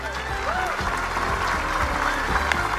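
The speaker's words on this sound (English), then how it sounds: "I don't need your clapping, you jerks." An audience claps in a dense, steady burst of applause that fills the whole short moment, loud and close, cheering a character on stage.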